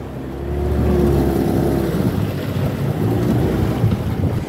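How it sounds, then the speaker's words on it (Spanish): Steady drone of a motorboat engine under rushing wind and water on a river, a constant low rumble heard from on board. "Miren, aquí vamos en la lancha."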